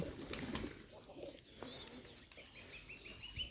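A Bombay pigeon coos softly in a loft, low murmuring calls with faint chirps and rustling around it, fairly quiet and close.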